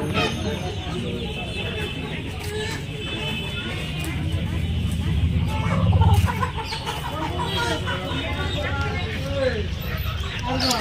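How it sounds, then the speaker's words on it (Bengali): Desi chickens and roosters clucking and calling at a busy poultry market in Nepalgunj, with steady crowd chatter and bustle throughout and a low thump partway through. "এগুলো বন্ধুরা সব দেশি মুরগি"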